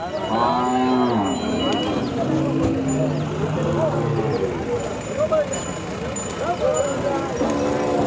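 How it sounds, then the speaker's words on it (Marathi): Khillar cows low loudly and repeatedly at a busy cattle market in Sangola, with long, deep moos that overlap each other. A constant crowd murmur and voices fill the background. "इथं दोन ते तीन गायी आहेत"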